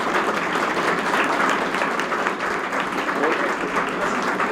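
Audience applause at a felicitation ceremony welcoming a guest at a career academy in Sikar, a dense steady wash of clapping throughout with some voices mixed in.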